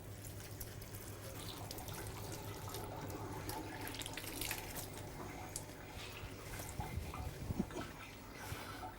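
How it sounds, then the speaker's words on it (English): A kitchen tap runs steadily while coriander leaves are rinsed under it, giving a soft continuous splash with faint, uneven drips and light handling noise close by. "I have dhania here, coriander, and I'm going to rinse it."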